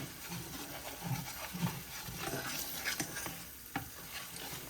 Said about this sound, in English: I'm gonna put a little bit more flour in there